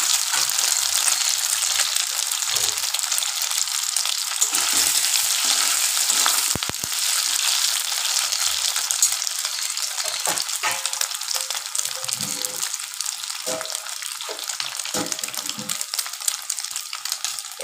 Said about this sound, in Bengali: এবার আমি পনিরটা ভেজে তুলে রাখবো